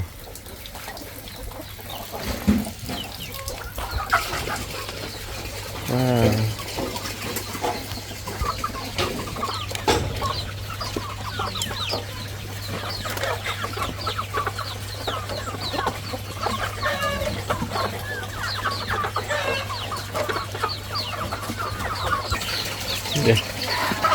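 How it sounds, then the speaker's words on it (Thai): Chickens cluck and squawk on and off throughout on a farm with chickens and ducks, with a steady low hum and some background farmyard activity. "เต็มไปด้วยไก่ด้วยเป็ด"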